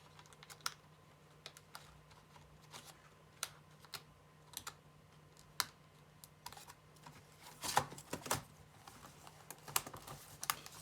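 Laptop keyboard on an Acer Aspire 5745G being pressed back into place, a series of sharp plastic clicks and taps, scattered and then clustered near the end, close up.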